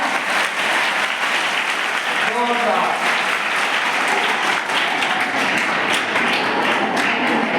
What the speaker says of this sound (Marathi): आईसाठी जोरदार टाळ्या वाजवा.